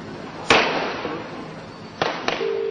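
Gunshots during the Mumbai terror attack: a sharp loud report, then after a pause two more close cracks, each ringing out in a large space over a steady background hiss.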